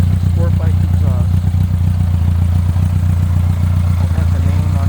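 A 1982 Honda GL1100 motorcycle with four carburetors and an aftermarket Superbike exhaust idles with a steady low, throbbing rumble close by, while someone talks over it throughout.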